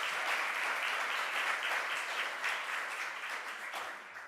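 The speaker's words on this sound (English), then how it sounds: "Let's give him a round of applause." Audience applause at a New York governor's public announcement on financial assistance, steady dense clapping filling the room for several seconds and slowly thinning toward the end, with no talk over it.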